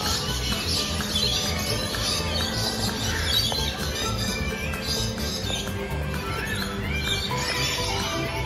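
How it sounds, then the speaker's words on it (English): Birds chirping and squawking among the aviaries and grounds of Busch Gardens Tampa, a steady layer of bright calls over constant crowd and park ambience with no clear talk. "Watch the birds over here!"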